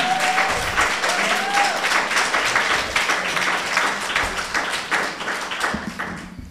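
Audience applause at a Juneteenth event, sustained dense clapping from a crowd, loud and steady and slowly tapering toward the end.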